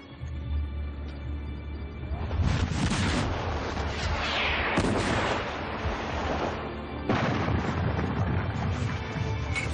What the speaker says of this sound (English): Finally, at 11:25 a.m., Bonaparte ordered his artillery to open fire.